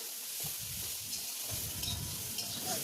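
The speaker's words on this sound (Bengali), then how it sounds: "হলুদটাকে দিয়ে আবার ভেজে নেবে পেঁয়াজটা আর" Potatoes and onions frying with turmeric and salt, a faint, soft sizzle with occasional low stirring bumps, fairly quiet and steady.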